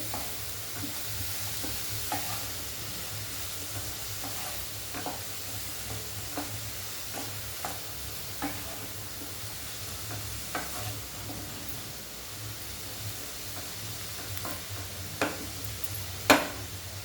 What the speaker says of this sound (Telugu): ఉప్పు, పసుపు వేస్తే ఉల్లిపాయ తొందరగా మగ్గిపోతుందండి